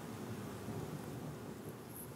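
Steady rain falling outside with a low thunder rumble rolling underneath, a continuous broadband wash of sound that stays even throughout with no voices.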